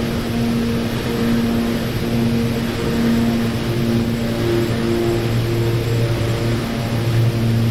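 Steady, droning propeller and engine hum of an OV-10 Bronco twin-turboprop aircraft in DCS World, a constant loud tone with no pauses and no talk.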